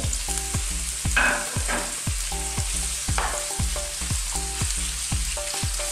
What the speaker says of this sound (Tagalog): Hintayin po lang natin na mag-produce ng oil ang chicken at isusunod na natin ang sitaw